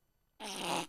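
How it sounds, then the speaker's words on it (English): Fart sound effect played by an Alexa smart speaker: a single short, loud, buzzy burst starting after a brief silence and lasting about half a second. "Alexa, can I have a random fart, please?"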